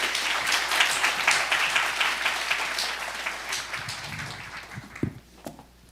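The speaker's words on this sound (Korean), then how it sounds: "우리 나오실 때 박수로 환영하겠습니다" Church congregation at a Friday worship service clapping to welcome a missionary speaker to the stage, a dense steady applause that thins out toward the end with a few last scattered claps.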